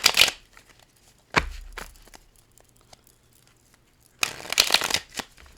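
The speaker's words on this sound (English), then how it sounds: "Actually, I'm going to shuffle a little bit." A tarot deck is shuffled in quick, papery bursts of riffling and card slaps, with short quiet gaps between the bursts, close and fairly loud.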